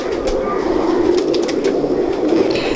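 Teddy pigeons cooing in a loft, a steady low murmuring coo running throughout at moderate level with faint background noise.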